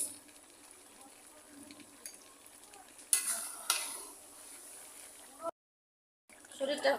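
A mango pickle mixture with spices being stirred, faint soft scraping and sloshing with a couple of louder clinks, broken by a short silent gap before stirring resumes.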